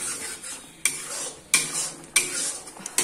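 Onions roast in a pan with turmeric, coriander and home-made red chilli powder. Four sharp spatula scrapes come at a regular pace over a soft underlying sizzle.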